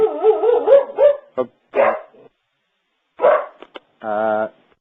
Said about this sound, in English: I have a dog that barks at everybody who comes